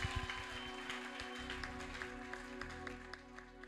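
A church congregation applauds in worship, rapid rhythmic clapping ringing out over sustained musical tones and crowd noise, moderately loud.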